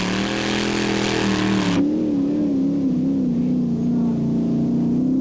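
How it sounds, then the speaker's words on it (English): A pulling tractor powered by a Ford 460 engine at a 1995 European tractor pulling event at Walibi Flevo, Holland, revs loudly and close, its pitch rising, easing and wavering as it holds a heavy, steady drone. "That's a Ford 460 engine with Jan Termeer behind the controls."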